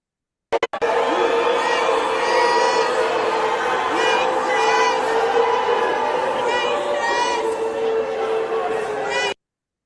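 A large crowd screams, cheers and chants continuously at a political event, loud and dense throughout, with voices whooping over the roar.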